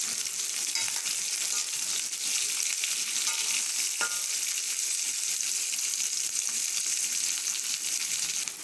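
Onions sautéing in a pan for vegetable masala give off a steady, close hiss and sizzle that runs unbroken, with only faint stirring and no voices.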